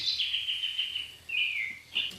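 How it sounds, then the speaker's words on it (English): A robin sings alone and close, a high, clear warbling phrase followed by two shorter bright trills. "Robin."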